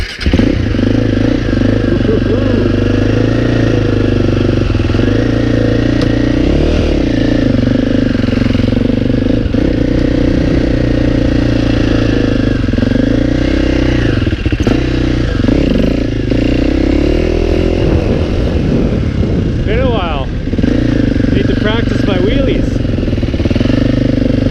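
Quad ATV engine running steadily with the choke on, a loud continuous low throbbing drone with some rattling clatter, voices talking over it.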